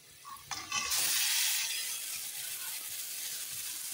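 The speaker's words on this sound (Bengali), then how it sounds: "এখন ম্যারিনেট করা মাংস দিয়ে দিব।" A loud burst of sizzling as marinated chicken hits a hot pan, settling into steady frying hiss with no talking.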